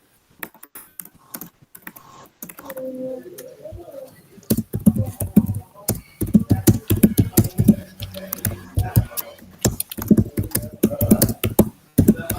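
Fingers type on a computer keyboard in quick, uneven bursts of close, crisp key clicks that grow denser and louder after a sparse start, with soft pigeon-like cooing underneath at first.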